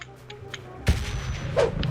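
A sharp gunshot bang cuts through steady background noise in the video game PUBG Lite as a car is shot at, followed by another burst a moment later.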